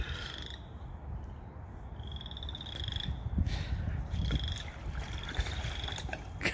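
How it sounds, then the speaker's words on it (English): Frogs croak in repeated raspy trills, fairly distant, over a low outdoor rumble; the calls come in bursts with short gaps between them. "There's all the frogs."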